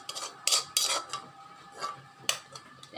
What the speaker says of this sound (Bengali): বাটিতে ঢেলে দিলাম।